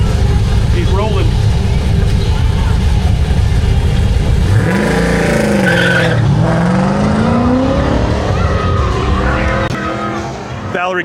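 A modified GTA with a Black Widow exhaust and Wilwood disc brakes on an autocross course, engine roaring loud and close with tires squealing and revs rising and falling, while an announcer talks over it.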